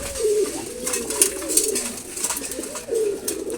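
A pair of khaki pigeons feeding in the morning give low, throaty cooing calls that swell and repeat a few times, close by, with faint chirps and light background noise between the coos.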